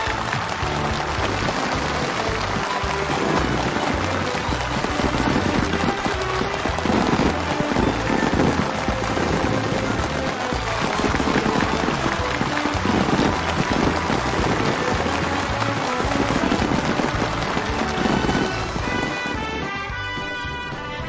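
Warm, sustained applause from a large crowd at a factory opening ceremony in Kumya County, a dense unbroken wash of clapping that holds steady for about twenty seconds before easing slightly at the end.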